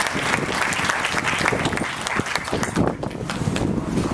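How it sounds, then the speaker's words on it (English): An audience applauds for a speaker at a keynote talk, dense sustained clapping from many hands filling the room at steady loudness, with occasional louder individual claps. "A round of applause for Tara."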